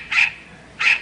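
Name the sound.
dog Goldie barking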